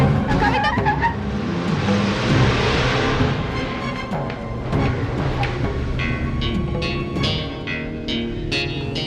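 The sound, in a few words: car driving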